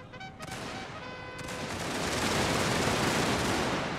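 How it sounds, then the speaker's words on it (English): Dense, rapid musket and cannon fire crackles in a continuous barrage in a strategy video game battle, with overlapping shots and booming blasts building into a loud, chaotic battle din. "We get fired upon"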